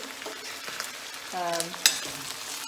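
Potatoes and spinach sizzle quietly in a frying pan while being stirred, with soft scraping and a sharp clink of utensil against pan amid the steady fry.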